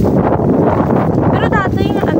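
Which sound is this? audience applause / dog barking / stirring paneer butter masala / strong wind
strong wind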